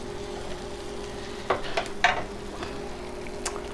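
Cauliflower cooking in a pan with Himalayan salt gives a low, steady sizzle, with a few brief stirring scrapes near the middle and again near the end. No one speaks.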